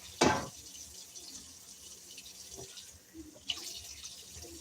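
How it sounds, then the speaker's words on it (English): Hot water running from a kitchen tap into a sink, a steady close splashing flow with a clattering thud at the start and another knock partway through. "Let me turn the cold water off and turn just the hot water on to help this go down."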